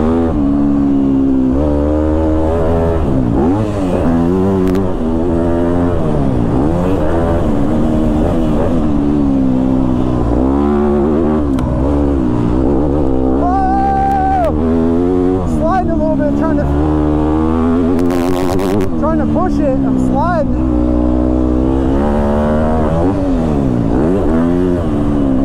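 A Yamaha YZ250F four-stroke dirt bike engine revs and drones up and down through gears, loud and close, with shifting pitch as it rides.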